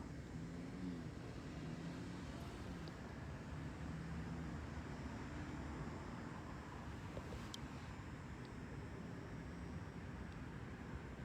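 Steady traffic on a highway at night, a continuous broadband rumble of passing vehicles with no breaks, heard from outside beside the road.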